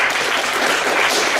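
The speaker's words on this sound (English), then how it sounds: "can I just get a round of applause for this beautiful human being walking in the front?" A convention audience at Fiesta Equestria 2015 gives a round of applause, dense, loud crowd clapping filling the whole short stretch without a break.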